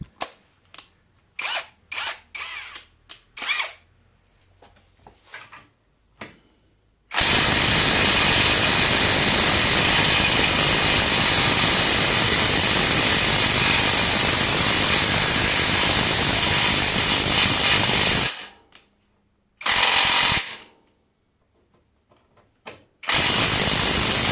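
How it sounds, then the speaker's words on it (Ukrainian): A cheap Grand AG-21 cordless impact wrench hammers away for a long, loud continuous run, then gives two short bursts, loosening nuts. Sharp clicks and handling knocks come before it, and it is close, with no talking. "Такий ось гайковерт. Гарант, не знаю, досить дешевий. Зараз спробуємо відкручувати."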